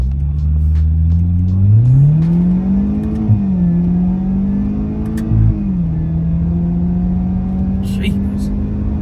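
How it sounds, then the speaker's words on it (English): A Jaguar XE 25t sedan in sport mode accelerates hard, the engine note climbing, dipping at gear changes and settling into a steady drone. Occasional clicks and a brief high whine come near the end. "So now let's test out this car in its sport mode"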